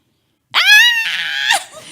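A loud, close scream sound effect bursts out after half a second of silence, holding a shrill wavering pitch for about a second before breaking off, with a brief fainter tail.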